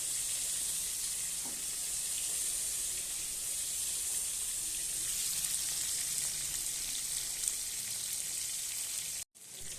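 Large prawns fry in hot oil with a loud, continuous sizzling hiss that holds steady throughout, then cuts out abruptly near the end, with no voices.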